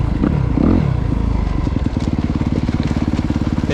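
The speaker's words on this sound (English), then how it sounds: "we could dump the clutch, rev it up, dump the clutch, and launch control should work" A 2024 Honda CRF250RX dirt bike launching with launch control: a close, loud engine revs up, then settles into a rapid, evenly pulsing drone as power is held back.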